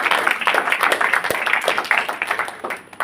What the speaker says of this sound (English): now is where you clap